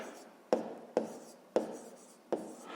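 A pen writes on paper, close and quiet, with four sharp taps landing at uneven intervals, each followed by a short scratchy trail of stroke noise.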